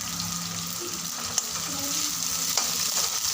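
Chopped onion and chilies hit hot oil with cumin seeds, giving a steady close frying hiss with a couple of sharp utensil taps against the pan.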